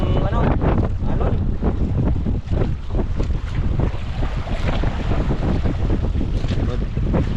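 Strong waves wash over a small boat at sea in heavy wind, a loud, continuous roar of rushing water and wind buffeting the microphone, with surges of splashing throughout.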